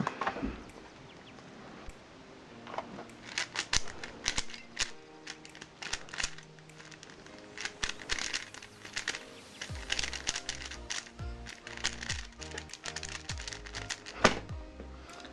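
A Skewb twist puzzle cube is scrambled by hand, giving rapid, irregular plastic clicks and clacks in dense bursts with short pauses between them, close and fairly quiet, with no talking.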